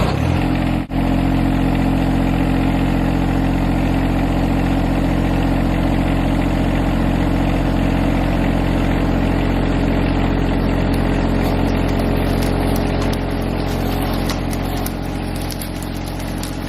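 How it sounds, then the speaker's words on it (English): A John Deere 1025R compact tractor engine runs loud and close, holding a steady, heavy drone the whole time with no break and no talking. "That 1025R John Deere never ceases to amaze me"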